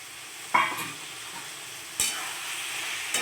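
Fried eggplant and prawns are stirred into hot spices in a pan, giving a soft steady sizzle with three distinct scraping stirs, no voices.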